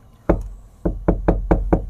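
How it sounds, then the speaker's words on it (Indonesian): Knocking on a door: a single knock, then a run of four quick, loud, evenly spaced raps close by, with no talking. "langsung ketok aja"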